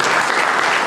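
Audience applause at a rabbi's live talk event, a short dense burst of clapping from a crowd, loud and close.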